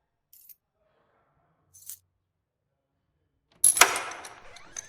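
Keys picked up in the video game The Last Case of John Morley: two faint, brief jingles, then a loud close metallic clatter and rattle that trails off.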